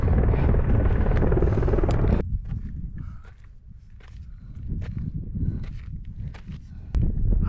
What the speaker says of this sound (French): Il y a un hélico là qui se pose.